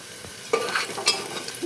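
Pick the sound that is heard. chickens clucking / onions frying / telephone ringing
onions frying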